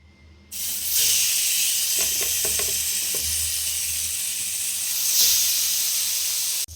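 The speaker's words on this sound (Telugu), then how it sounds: "మనం కొంచెం ఆయిల్ అప్లై చేసుకొని చేప ముక్కలు అనేది ఫ్రై చేసుకోవాలి" Fish pieces frying in oil in a pan, a loud steady sizzle that starts abruptly and holds, with a few soft clicks and a brief surge near the end, no talk.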